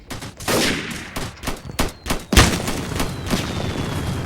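Rapid bursts of gunfire from the Roblox Military Tycoon video game, several sharp shots and volleys in uneven succession, loud and close, with no talking over them.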